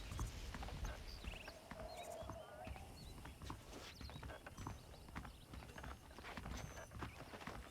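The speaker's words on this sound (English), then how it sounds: "The horses are saddled up over here." Horses trotting in the Red Dead Redemption video game, hooves clip-clopping in a steady rhythm at close range, with bird chirps and outdoor ambience around them.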